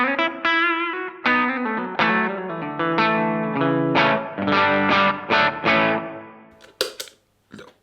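Electric guitar played through a Cogmeister drive pedal, a series of crunchy, distorted chords and riffs with clear attacks and short sustains, close and loud, ending in a few sharp scratchy hits.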